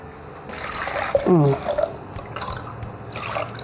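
Water is poured into a cooking pot while preparing palav dalcha, a brief splashing fill with a rising tone. A voice talks over the pour and the faint kitchen background.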